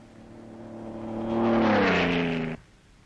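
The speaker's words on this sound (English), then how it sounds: "The roar of the engine is the only sound to break the desert silence." A car engine roars on a desert road at night in a 1930 film, swelling in loudness with a rising whine of harmonics before cutting off abruptly after about two and a half seconds, with nothing else heard.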